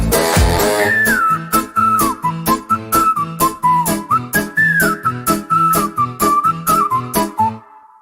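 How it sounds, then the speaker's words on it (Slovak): A bright, lilting melody whistled over a bouncy band accompaniment, phrases rising and falling in a steady, cheerful rhythm. "Keď som šťastný, rád si pískam."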